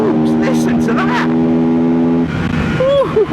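A Benda LFC700 motorcycle accelerating hard on a dual carriageway, a loud sustained engine whine that climbs and then drops away into wind noise, with a voice speaking over it.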